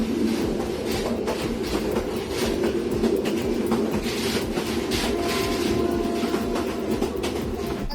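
A train rolls past with a steady rumble and rhythmic clickety-clack of wheels over rail joints, heard up close and continuous, with a faint squeal of wheels in the background.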